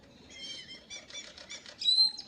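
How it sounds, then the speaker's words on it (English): Birds flap and flutter close by in a brief series of quick wingbeat bursts, with no voices present. "The birds are pissing me off."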